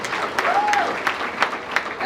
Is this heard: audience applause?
yes